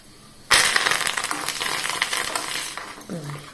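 Chillies, cumin seeds and curry leaves dropped into hot oil for tempering while making hotel-style curd rice, starting with a sudden loud sizzle that crackles and pops, then fades a little, with a few clinks near the end.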